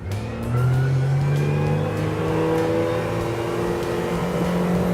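A Smokercraft Osprey 172 boat's outboard engine revs up and accelerates hard from a standstill, the pitch climbing steadily as it roars close by, loud and sustained.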